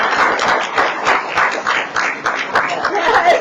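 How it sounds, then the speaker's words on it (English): An audience rises and applauds the recipient of an Emerging Leader Award at a ceremony: dense, continuous clapping from a crowd that rolls on for several seconds without a break. "join us in applauding Matt"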